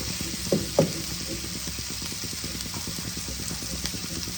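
Chillies fry in a pan over low heat, giving a steady soft sizzle with a couple of brief knocks from stirring near the start.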